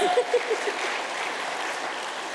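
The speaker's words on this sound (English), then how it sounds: "Another round of applause." Applause from a conference keynote audience, a dense continuous patter of clapping hands that holds steady throughout, with a few faint voice fragments at the start.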